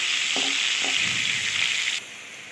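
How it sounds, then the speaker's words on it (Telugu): Onion pieces fry in hot oil for a tomato egg curry, giving a close, even sizzle with a couple of soft utensil knocks, ending in a slightly quieter hiss. "ఇప్పుడు ఉల్లిపాయ ముక్కలు కొంచెంసేపు వేగనిద్దాము"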